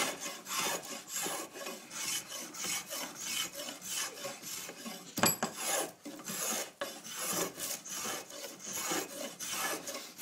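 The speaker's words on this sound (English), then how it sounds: "It's starting to rip the timber." A steady rasping, scraping sound of a rasp shaping a wooden cigar box guitar neck, the rasp starting to rip the timber, continuous back-and-forth strokes at close range, with one sharp knock midway.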